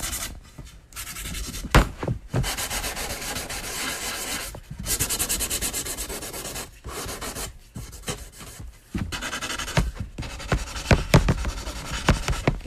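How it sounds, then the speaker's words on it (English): Sandpaper at 220 grit scrubs white paint off a prop cane in bursts of close, raspy rubbing strokes separated by short pauses, with no talking. "we're just finishing the sanding on the cane"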